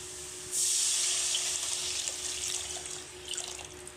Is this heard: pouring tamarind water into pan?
yes